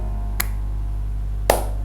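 Two sharp single hand claps sound in a quiet room over a steady low electrical hum. A light tap comes first, and a louder, slightly ringing clap follows about a second later.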